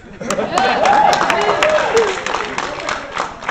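Applause and cheering from an audience, with scattered claps and raised voices mixing in the crowd noise.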